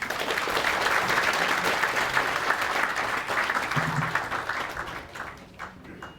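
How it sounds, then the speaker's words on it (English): Sustained applause from an audience at an annual gala dinner, steady dense clapping throughout that fades slightly toward the end. "Another huge round of applause, people"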